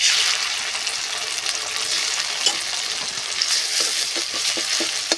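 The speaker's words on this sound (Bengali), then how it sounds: "যে কাঁকড়ার ঘিটা রেখেছিলাম সেই ঘিটা আমি দিয়ে দেবো।" Crab fat frying in oil in a wok, a close, steady sizzling hiss that continues throughout, with a few small pops and scraping sounds near the end.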